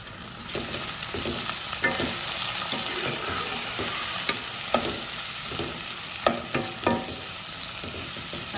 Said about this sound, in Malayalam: പഴത്തിനൊക്കെ നന്നായിട്ടൊന്ന് വഴറ്റി കൊടുക്കാം.